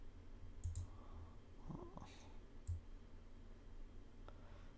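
A computer mouse clicks a few times during Cinema 4D and Photoshop design work, making soft, sparse, quiet clicks spaced about a second apart over faint room hiss.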